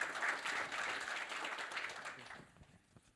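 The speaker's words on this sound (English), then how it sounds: "Another round of applause, please, for the guys." Audience applause at a customer conference panel session, a dense wash of clapping from a seated crowd that holds steady and then fades out over the last second.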